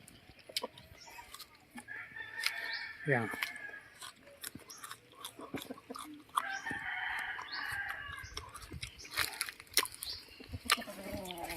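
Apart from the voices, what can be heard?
chickens clucking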